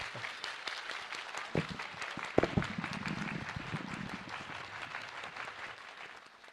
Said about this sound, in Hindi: आज एक बार फिर से तालियों की ये गड़गड़ाहट बताने के लिए काफी है